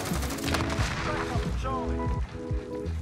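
Rapid automatic gunfire in Modern Warfare rattles continuously in dense bursts, loud and close, with ringing, shell-like metallic tones over the top and players talking in the mix.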